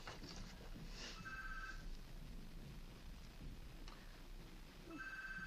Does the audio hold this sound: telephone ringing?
yes